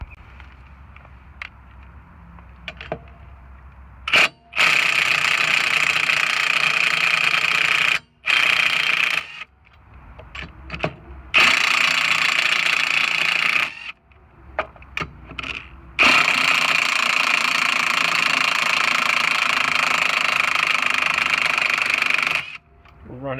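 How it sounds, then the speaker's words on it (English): A battery-powered impact tool removes lug nuts from the rear wheel of a 2000–05 Honda Civic, with several long, loud buzzing hammering bursts broken by pauses and short stutters, alongside some talk. "Let's take the lug nuts off."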